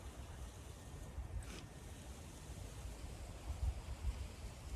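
Wind blows outdoors as a steady, faint rush with low buffeting against the microphone, occasional gusts, and no voices.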